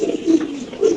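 A female bondinet pigeon coos in a low, throaty burble that swells twice over one second, close and fairly loud with no talk.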